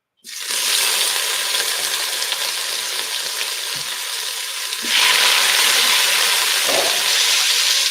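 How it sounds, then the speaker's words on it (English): Food frying in a pan gives a steady, close, dense sizzle from start to end, with a brief stir and the hiss growing louder around the midpoint; no one speaks. "Now, we're going to fry this up."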